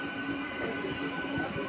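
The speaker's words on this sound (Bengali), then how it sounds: "আর এখন আমরা প্রবেশ করছি এই লাইনে সবচেয়ে গুরুত্বপূর্ণ স্টেশন বিষ্ণুপুর জংশনে।" A MEMU local train rolls into Bishnupur Junction on the Jayrambati–Bankura line, its steady rumbling wheel and carriage noise filling the scene at an even, continuous level with no voices.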